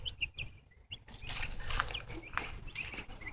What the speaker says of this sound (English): we went ahead and brought the chickens out for a little sunshine visitation.